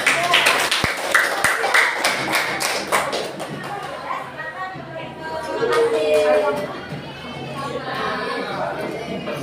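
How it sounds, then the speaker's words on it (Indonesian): A class claps for group 3 in an Indonesian classroom, with dense sharp clapping at the start giving way to children's chatter and a teacher speaking over the room. "Tepuk tangan buat kelompok 3."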